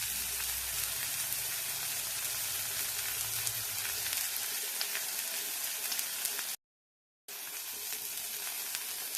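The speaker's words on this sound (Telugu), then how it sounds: "ఇదే ప్యాన్లోనే కాస్త ఆయిల్ వేసి ఇలా చింత చిగురు కూడా కాస్త మనం మగ్గనిద్దాము." Tender tamarind leaves fry in a little oil in a pan, a dense, bright sizzle with fine crackles, close and steady. A low rumble underneath fades midway, and a brief dropout cuts the sound to silence before the sizzle resumes.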